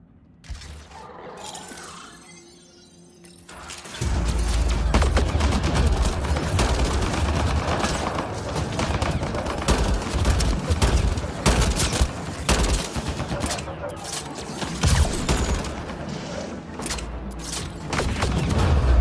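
Sustained rapid gunfire against turrets in the video game Mass Effect Andromeda, dense bursts with mechanical clanks and impacts starting after a quieter opening and continuing loud to the end.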